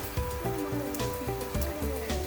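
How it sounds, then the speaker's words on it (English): Steady rain pours down at a fossil clam dig site at the Fort Drum Crystal Mine after a hot day, a dense continuous hiss of drops on surfaces that stays close and even throughout, with no talking. "hallelujah, it's raining."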